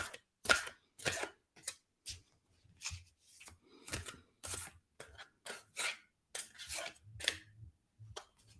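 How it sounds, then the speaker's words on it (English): A deck of tarot cards is shuffled by hand, producing about a dozen short, crisp riffling bursts with quiet pauses between them, close and fairly soft, with no voices. "It always takes a little while for it to fully shuffle, so it's a little more clunky"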